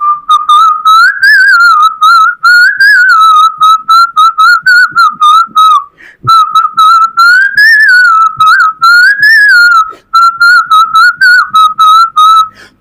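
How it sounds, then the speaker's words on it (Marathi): A person whistles a melodic song tune, loud and close, in steady phrases with short breaths between them and no talking. "मी शिट्टीतून गाणं म्हणून दाखवणार"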